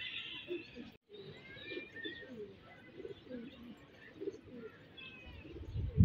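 Pigeons at a pigeon-flying hobby site in rural South Asia coo and call repeatedly in the open air, with faint chirps from other birds and a brief gap near the start.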